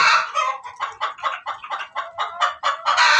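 Desi hens on an urban rooftop farm in Pakistan cluck continuously in a loud, close chorus, with overlapping calls and no talking.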